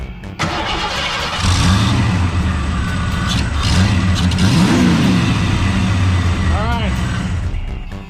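A Ford Mustang engine cranks and starts, then settles into a loud, rumbling run with a couple of revs close by, while people talk over it.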